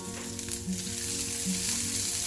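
Finely chopped onion and cumin seeds fry in hot oil for a paniyaram breakfast, giving a continuous, fairly loud sizzle heard up close, with faint stirring scrapes and no talking.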